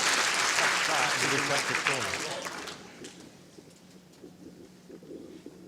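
Spectators at the World Indoor Bowls Championship break into loud applause that fades out within about three seconds, leaving a quieter hall with faint murmurs.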